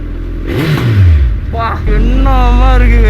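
A Suzuki Hayabusa motorcycle engine revs hard while being ridden, rising and falling in loud close bursts, with a voice talking over it partway through.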